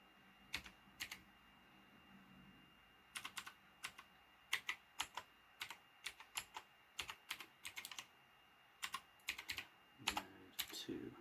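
Close-up typing on a computer keyboard: irregular bursts of clicking keystrokes separated by short pauses, with quiet background between.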